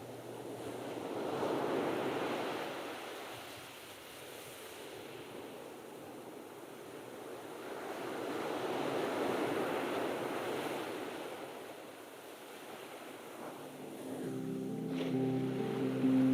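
Ocean waves wash onto a sandy shore in slow, swelling surges that rise and fade twice, a soft, steady hiss of surf with a faint tonal hum creeping in at the end.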